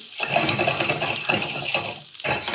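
Butter melting and starting to brown in a hot pan gives a steady, bright sizzle with crackling, close and continuous, briefly dipping before returning.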